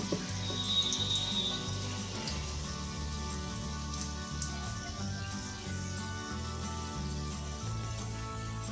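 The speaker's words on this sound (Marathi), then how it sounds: "आणि अशी तेलात टाकून द्यायची हळूच।" Batata vada, a spiced potato fritter dipped in batter, sizzles steadily in hot oil with a continuous crackling hiss, while background music plays underneath.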